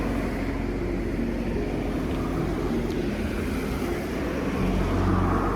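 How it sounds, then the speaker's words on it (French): Steady roadway noise of cars passing by on a road, a continuous broad whoosh and rumble at moderate distance with no voices, swelling slightly near the end. "il y a beaucoup de voitures qui passent"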